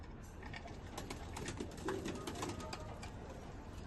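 Pigeons in a loft coo softly in the distance under a faint, steady background hiss, with a few brief rustles.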